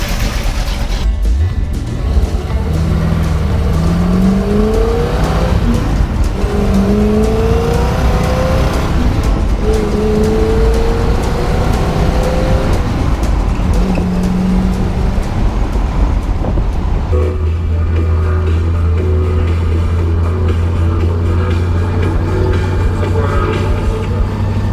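A loud V8 engine in a 1968 Pontiac Firebird 400 four-speed convertible rumbles and revs as it drives, with repeated rising acceleration sweeps and a deep steady idle toward the end.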